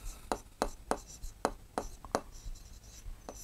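A pen writes on paper during a class 7 geometry lesson, producing a steady series of short, quick scratchy strokes in an irregular rhythm, close but faint, with no talking.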